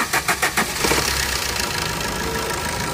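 A 2014 Maruti Swift Dzire diesel engine cranks with a few quick rhythmic bursts, then catches and settles into a rough, clattery idle, heard close and alone.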